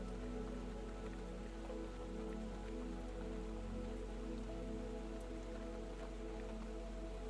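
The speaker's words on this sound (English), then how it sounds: "the steady drumming of rain" Steady rain drums on the roof of a pottery studio at night, a continuous even wash of dense droplets with no breaks or voices.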